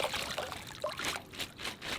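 Water sloshing and trickling in a hot tub where plastic bags are washed with plain water, a steady gentle splashing and dribbling close by.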